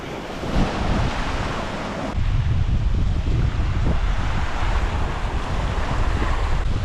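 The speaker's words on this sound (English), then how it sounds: "It's definitely getting windy now too." Steady wind rushes and buffets the microphone beside breaking surf on an Australian shoreline, a continuous loud roar with no talking.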